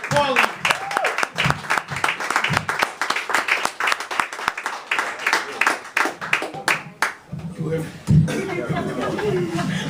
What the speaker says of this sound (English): Clap it up one more time for Garrett Pauli